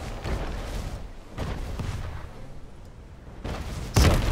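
Ship cannons fire in a naval battle in Anno 1800, a series of heavy booming blasts spread across the stretch with a louder, sharper shot near the end, with no talking.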